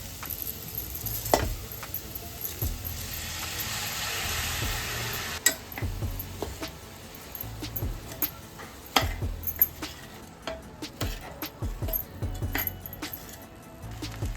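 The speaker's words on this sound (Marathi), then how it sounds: "आता हे तांदूळ घालून परतून झाला ना" Rice stirred and sautéed with vegetables and pulao masala in a cooking pot, giving soft scraping and clinking spoon strokes in an irregular rhythm, close by and moderately quiet, with no talking.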